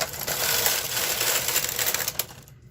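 A knitting machine knits off a row of stitches, making one loud, continuous rattling sweep of the carriage that ends abruptly with a few final clacks.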